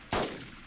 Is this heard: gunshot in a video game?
yes